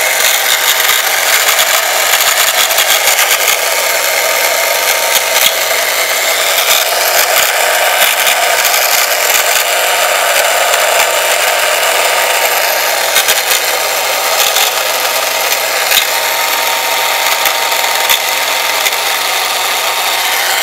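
An Omnibot 2000 robot's quad-motor two-speed gearbox runs continuously in its lower speed, giving a steady gritty whirring with an extra scraping noise throughout, close and fairly loud, with no talking.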